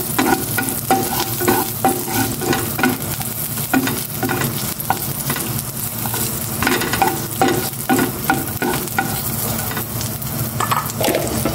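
Garlic sautéing in a hot pan for garlic fried rice, a loud continuous sizzle broken by repeated scraping and stirring strokes of a utensil against the pan.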